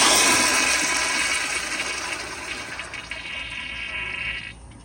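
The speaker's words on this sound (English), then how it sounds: "this is an older pressure assist toilet" A 1989 grey Crane Plumbing Economiser pressure-assist toilet flushes with a loud, forceful rush of water that tapers slightly over about five seconds and stops abruptly at the end, close by with no talking.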